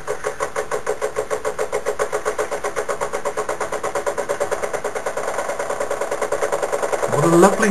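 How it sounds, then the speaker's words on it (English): Wilesco toy steam engine running on low steam feed, a rapid, regular chuffing beat with mechanical clatter close by, picking up slightly near the end as a clunk sounds. "Keeping the steam feed low at the moment while the engine kicks in."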